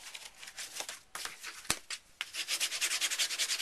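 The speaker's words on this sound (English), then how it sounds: "burnish your inside." Paper being burnished by hand while assembling a mini album: a close, soft rubbing and scraping that starts and stops, ending in a run of quick regular strokes, with one sharp tick partway through and no talking.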